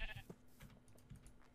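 Sheep bleat in a survival farming video game, a few short nasal calls near the start over faint background noise and light clicking.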